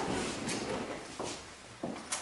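Kitchen drawer opening and closing, a few soft sliding thumps and knocks at close range against faint room noise, with no talk.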